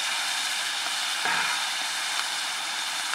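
A steady sizzle as red wine hits garlic, onions and serrano peppers in a cast iron pan at a winter campsite, a continuous hiss with no talking.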